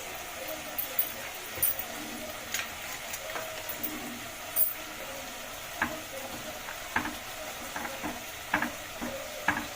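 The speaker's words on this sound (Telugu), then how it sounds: "ఇట్లా కలుపుకోవాలండి. కలుపుకొని మూత పెట్టుకోవాలి." Tomato gravy biryani being stirred in a clay pot, with intermittent scraping and knocking taps of a spoon against the pot over a faint sizzle, a voice speaking at times.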